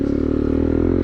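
A 2009 Yamaha TW200 dirt bike ridden off-road in mud, its single-cylinder engine chugging in a steady, loud, low throb at an even pace, close up, with no talking.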